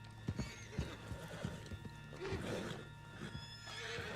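A horse in Red Dead Redemption 2 gallops with hooves pounding in a fast rhythm, occasional whinnies and snorts, over a steady background hum.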